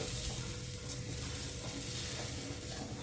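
Oats being stirred together with vegetables and spices in a hot pan, a steady close sizzle with soft scraping of the spoon throughout, no voices.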